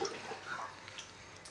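Water is flushed through the drain of a two-door refrigerator, a soft, faint trickling and splashing running steadily without speech.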